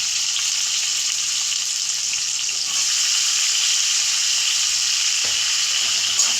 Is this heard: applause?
no